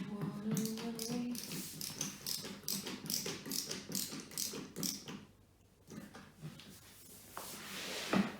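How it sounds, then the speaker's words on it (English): Metal screws are driven by hand into an IKEA MALM six-drawer chest. Quiet, rhythmic ratcheting clicks repeat in quick series, pause briefly, then resume. "I like putting these metal screws in."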